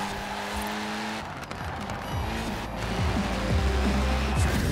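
A 1974 Toyota Corolla SR5 races in Forza Horizon 4, its engine note steady and loud with shifting revs, brief tire scrubs and skids rising near the end.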